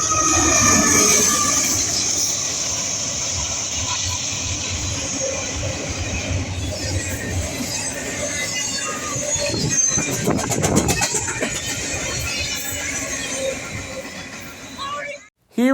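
A westbound intermodal freight train led by two C6M locomotives rumbles steadily past with rail noise and a brief flurry of wheel clatter near the end, while a voice talks over it.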